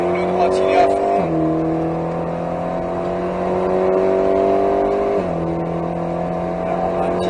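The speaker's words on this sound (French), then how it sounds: "Et on reprend l'accélération. Gaz." An Alpine A110S with 292 hp accelerating at full throttle on the Nogaro racing circuit, heard from inside, the engine note climbing steadily through two upshifts, with someone talking over it.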